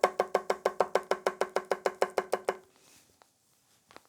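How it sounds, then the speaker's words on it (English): An Enso bunka knife tap-chops on a cutting board in a quick, even run of about fifteen crisp knocks, then stops, followed by near silence and a faint handling sound. "let's try this with a tap chop"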